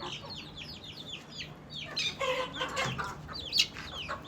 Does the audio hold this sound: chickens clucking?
yes